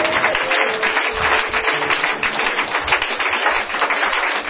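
A church congregation applauding, a dense continuous wash of clapping from many hands that stays loud and even throughout, with no voices standing out.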